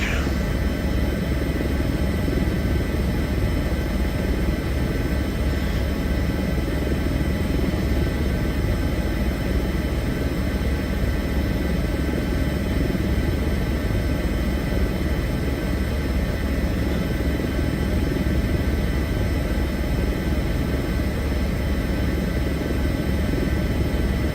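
Steady, continuous rotor and turbine drone of an HPG H145 helicopter in Microsoft Flight Simulator 2024, a dense unbroken rumble and buzz holding at a constant level throughout with no gaps.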